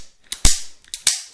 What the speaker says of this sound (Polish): Cały czas naciskając spust i tylko odciągnięcie kurka powoduje nam odwrócenie bębna i kolejny strzał